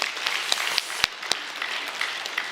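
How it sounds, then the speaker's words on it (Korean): Scattered applause from a church congregation during a Sunday service, fairly quiet and loose clapping with a few sharper individual claps standing out. "박수 한번 해주시기 바랍니다"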